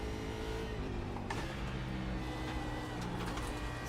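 A Mazda Miata racing in a video game, its engine a steady dense drone throughout with a brief gear-shift shift near the middle and faint tire noise, loud and continuous.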